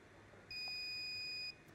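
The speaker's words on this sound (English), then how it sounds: "it'll give us a couple of beeps" A single steady electronic beep lasting about a second from a Cendence S radio controller during master-slave remote setup, clean and moderately loud over faint room hum.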